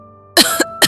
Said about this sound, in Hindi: मैं जोर जोर से खांसने लगी।